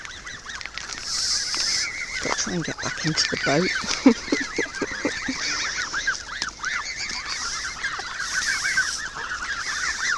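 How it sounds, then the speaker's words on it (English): A mob of geese honks repeatedly beside a canal narrowboat, with an adult goose hissing nearby; loud, close honking comes in bursts while a person speaks briefly over the calls. "how do I get through a mob of geese to get back onto the boat when I've got an adult hissing at me like that?"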